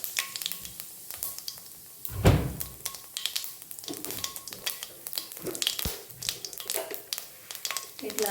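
Cumin seeds crackling and sizzling in hot oil with mustard seeds already popped, a steady frying hiss with scattered sharp pops and a louder burst as the seeds go in, under a voice talking.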